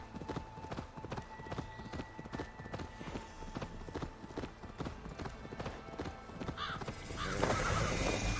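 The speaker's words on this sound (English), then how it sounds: "using your horse to travel like this" A horse gallops in Assassin's Creed Valhalla, steady rapid hoof clip-clops driving along, with a whinny and crow caws in the game world and the ambience swelling near the end.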